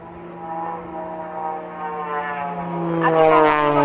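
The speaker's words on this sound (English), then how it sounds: "he's now about to invertedly spin the aircraft while still going upwards" An aerobatic aircraft at the Royal Air Force Waddington International Air Show 2010 drones overhead with a steady tonal engine hum that swells louder toward the end, no voices over it.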